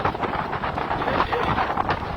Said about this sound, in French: Et le vent là, c'est un petit vent.